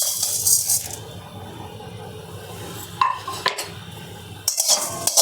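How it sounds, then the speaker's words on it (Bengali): Cumin, coriander, fennel and dry red chillies are dry-roasted in a hot kadai, with sharp metallic clinks and spatula scrapes bunched at the start and end and a quieter rattle in between. "এগুলোকে সব আমি কড়াইতে করে ভেজে নেব।"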